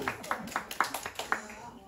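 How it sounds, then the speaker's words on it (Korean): A small church class gives a short round of applause, about seven distinct, fairly close claps in a quick uneven rhythm, with faint talk underneath. "박수."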